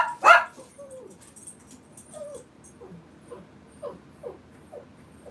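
A dog gives one sharp bark, then a string of soft whimpers and whiny yips that repeat unevenly, close by and fairly quiet.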